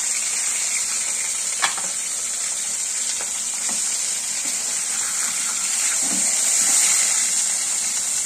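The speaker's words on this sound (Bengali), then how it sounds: "এদিকে আমি মাছ ভাজা বসিয়েছি, মাছের ঝোল করব।" Steady crackling sizzle of fish frying in hot oil, close and continuous, with a few faint clinks; no talking.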